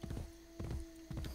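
Horse hooves clip-clop in Assassin's Creed Brotherhood, three quick clusters of muffled hoofbeats over a steady low hum, faint and alone without talk.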